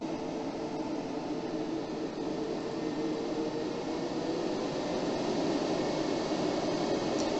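Cooling fans of a PowMR 6.2 kW hybrid solar inverter running at maximum speed, a steady, loud broadband whir with a faint tonal hum that stays constant throughout and has no talk over it.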